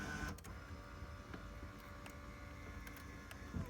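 The power seat motor in a BMW E46 Convertible drives the front seat forward along its tracks, giving a faint, steady whirring hum with a few light clicks throughout a short, quiet stretch.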